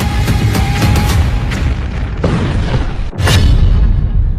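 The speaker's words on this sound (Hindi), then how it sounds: "बेरूत पर बमबारी" Heavy explosions from the bombing of Beirut, captured in news footage: loud, dense booming rumble with repeated blasts, a brief cut, then another strong burst.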